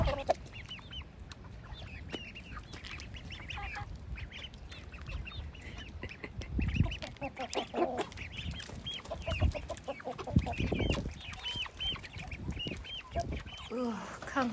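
Chickens and ducks huddled in a flooded coop during heavy rain: repeated clucking and quacking calls, some close and some farther off, over a constant background wash of rain and water.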